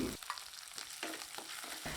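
Chopped onions, green chillies and ginger sizzle and crackle steadily in a hot pan, with periodic bursts as they are stirred and tossed, close up with no talking.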